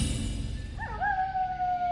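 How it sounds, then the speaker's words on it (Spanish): A single wolf howl at nightfall in the video game Warcraft 3 Reforged, a clear rising then sustained wail over low background sound, without talk. "El aullido del lobo indica que ha llegado la noche."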